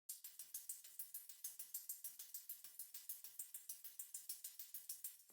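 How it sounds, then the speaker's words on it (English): Synth hi-hat played without an arpeggiator, a fast, even stream of crisp, bright ticks repeating steadily, with a few accented hits in the pattern. "normally the hi-hat sounds like this"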